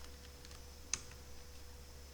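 Code being typed on a computer keyboard: faint, sparse key taps with one sharper click, quiet and close against a low steady hum.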